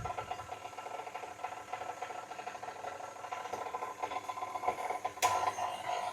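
A stand mixer running at low speed while oil is added to a chocolate chiffon cake batter gives a faint, steady mechanical whirr with a light rattling vibration throughout.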